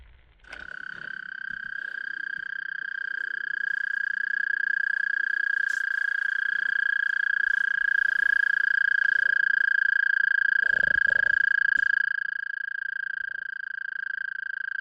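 Frogs in a roadside puddle call in a dense, continuous high trilling chorus that drones on steadily for the whole stretch, fairly close and loud, with a few brief rustles partway through.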